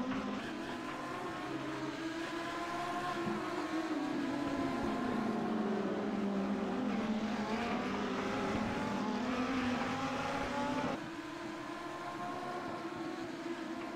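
Audi R8 Cup race cars at a circuit race, a sustained engine drone with rising and falling pitch as cars pass, fairly distant and steady for the whole stretch.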